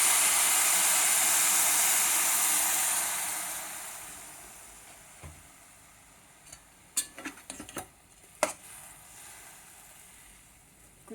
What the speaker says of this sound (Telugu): చేసి ఇప్పుడు వేడి నీళ్ళండి, నీళ్ళు పెట్టుకున్నాను. ఇప్పుడు తగినంత నీళ్ళు వేసేయాలన్నమాట.